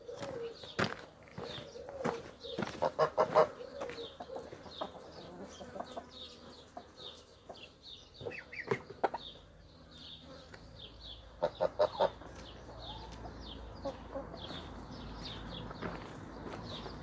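Chickens peck and cluck softly while feeding close by, with scattered sharp pecking taps in bursts, occasional footsteps and a faint insect buzz in the background.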